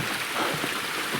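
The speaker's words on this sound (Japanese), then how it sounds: "ほらね、滝が出てきたでしょ。" A waterfall beside a mountain path at night gives a brief, steady rushing splash of falling water, fairly loud and continuous with no voices.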